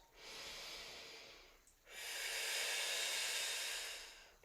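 Two long, breathy exhales during a twisting exercise on a foam roller, the first stopping briefly before the second, steady and close with no talk over them.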